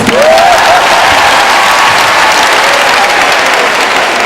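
A large crowd applauds and cheers steadily and loudly throughout, with a whistle rising briefly near the start.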